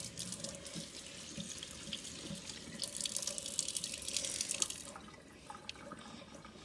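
Cold tap water running over a lump of homemade milk plastic in a sink, a steady splashing stream that grows busier midway and then softens to a thinner trickle, close and quiet.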